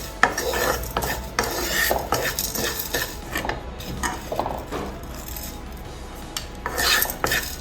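A spoon scrapes and clanks repeatedly against a pan as cumin and spices are dry-roasted over a medium flame. The strokes are close and irregular, with metallic knocks and grating between them and no voices.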